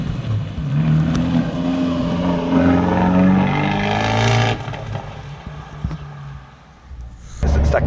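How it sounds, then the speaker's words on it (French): An Abarth 124 GT with a Manza sport exhaust roars close and loud as it accelerates through rising revs. The sound eases off, then brief crackling pops follow, and the engine surges again at the end. "on a une ligne d'échappement Manza, ce qui fait que ça gueule, hein, ça gueule"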